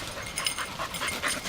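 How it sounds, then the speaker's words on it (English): An excited search dog panting rapidly and steadily close by, with the jingle of her collar bell mixed in, and no voices. "You can probably tell by the sound of her bell that she's excited."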